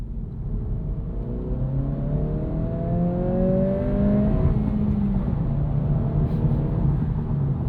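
A 2026 Acura Integra A-Spec with a 6-speed manual and turbo engine revs toward the limiter, its loud, steady engine note climbing in pitch for several seconds, then settling lower, with no talking.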